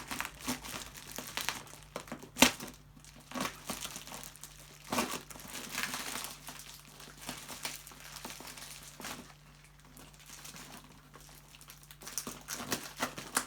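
Packaging for car fender flares for a Mazda MX5 being cut and pulled open, with irregular crinkling, tearing and rustling of plastic and cardboard, plus a few sharp clicks, close and moderately quiet.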